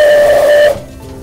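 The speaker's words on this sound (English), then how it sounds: "The whistle works when I pull this handle." A steam locomotive whistle, sounded by pulling its handle, gives a loud, steady, piercing tone for most of a second and then cuts off, leaving a faint hiss of steam.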